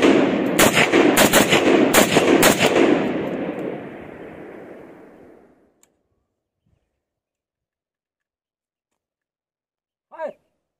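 Loud, rapid bursts of rifle gunfire from a 44 bore and an AK-47 shot at a target outdoors, several close shots in quick succession for about three seconds, then a long fading echo, silence and a brief voice near the end.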